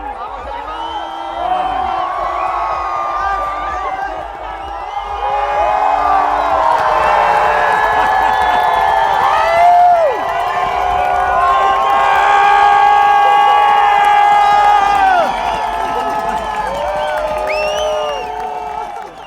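A big crowd at the finish zone of a Baqueira Beret freeride ski contest roars and cheers without pause, with whoops and high shouting voices swelling louder toward the middle and staying loud to the end.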